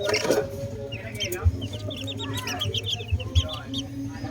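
Gamefowl chickens of the Golden Boy and Sweater Boston lines, stressed after a rat attack, cluck in a backyard with a steady run of chirpy calls and a few low thumps nearby.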